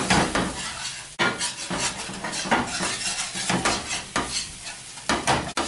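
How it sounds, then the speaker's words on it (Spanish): A spoon scrapes and clinks against a pot while flour is stirred into milk for a crab chowder, a busy continuous rattle of utensil on metal with brief pauses, close and fairly loud, no talking. "vamos disolviendo la harina con la leche"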